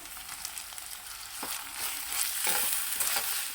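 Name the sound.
tomato pieces frying in a pan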